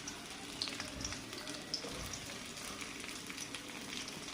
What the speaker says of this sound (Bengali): তেল গরম হয়ে গেছে, আমি পেঁয়াজ কুচিগুলো দিয়ে দিলাম।